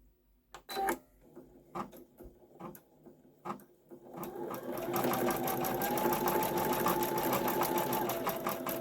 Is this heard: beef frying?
no